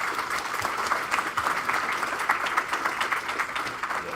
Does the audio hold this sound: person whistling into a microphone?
no